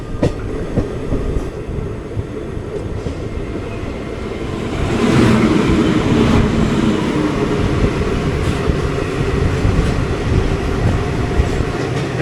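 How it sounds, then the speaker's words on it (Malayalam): A loaded coal freight train rolls past close by, a loud continuous rumble of wagons with rhythmic wheel clatter and metallic rattling that swells midway and holds steady without any voices. "ഇത് ലോഡഡ് കോൾ ഫ്ലൈറ്റാണ്. നല്ല ഫ്ലൈറ്റ് മൂവ്മെൻ്റ് ഉണ്ട്."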